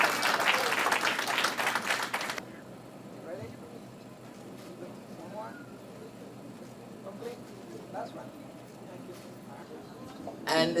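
An audience at a hospital employee recognition ceremony gives a nursing unit manager a burst of clapping that lasts about two seconds and then stops, leaving quiet room tone with scattered faint sounds before a brief second flurry at the end.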